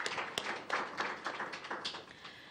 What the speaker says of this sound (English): that certainly does also deserve a round of applause